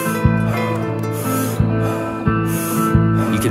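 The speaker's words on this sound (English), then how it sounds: "a powerful breath in through the mouth and a sigh of relief out the mouth" Heavy breaths drawn in and released with audible sighs, airy and close, repeating at a slow steady pace over a quiet ambient hum.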